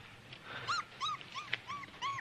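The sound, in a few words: wolf pup whimpering and growling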